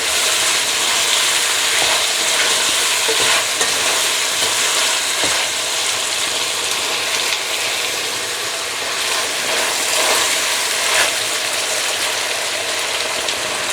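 Tomatoes sauté in a pan for Filipino pinakbet, giving off a loud, steady, bright sizzle with occasional scrapes and knocks from stirring, close up and continuous throughout.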